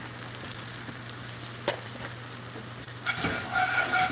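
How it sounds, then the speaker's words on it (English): Onions for a turkey or chicken pot pie fry in a pan with a steady sizzle and occasional stirring scrapes, then the hiss grows louder and brighter near the end. "Them onions are going to be like French fried onions."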